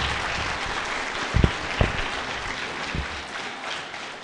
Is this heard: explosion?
no